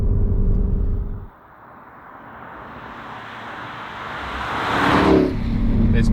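A Porsche Cayenne Turbo GT, a 640 hp SUV, accelerates hard, its engine note rising steadily from a low rumble to a loud surging roar before easing off, with the sound of the car passing by.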